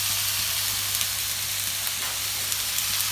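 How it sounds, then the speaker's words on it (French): Onions browning in a pan for a lamb tajine give a steady, even sizzle with occasional light crackles, along with a low constant hum. "Alors je vais faire rissoler mes oignons. Pendant que mes oignons rissolent,"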